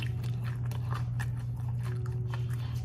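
Close chewing of crispy-skinned Southern fried chicken, a series of soft irregular crunches and mouth sounds over a constant low background hum.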